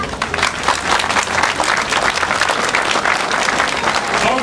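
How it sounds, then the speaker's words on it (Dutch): Loud, dense applause from an audience at a festive roundabout opening ceremony, sustained and even throughout with many hands clapping at once, a few voices mixed into the crowd noise. "Hij verdient zeker een applaus,"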